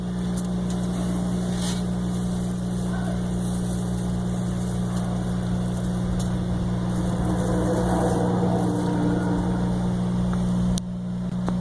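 A Cumberland granulator chops copper wire, giving a loud, steady machine drone with a strong low hum and irregular grinding and rattling on top, heard alone without talk.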